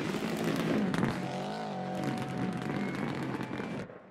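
A turbocharged Subaru Impreza 555 engine in the Richard Burns Rally game revs and drones steadily while driving on the Nordschleife. Its pitch rises and falls through gear changes, and it cuts off abruptly at the end.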